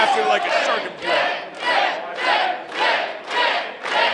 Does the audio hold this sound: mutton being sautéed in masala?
no